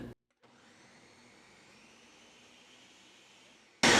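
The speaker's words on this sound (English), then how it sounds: "We're gonna blend it for about 4 to 5 minutes." A Ninja blender whirs steadily through honeydew melon for a drink, a loud continuous motor hum after a brief silent start, cut off abruptly at the end by a louder burst.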